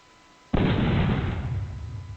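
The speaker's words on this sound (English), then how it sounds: "has a nice explosion sound." A single explosion from a thrown spear projectile in the game Ark bursts suddenly after a brief quiet, a loud broad boom that rumbles and slowly fades.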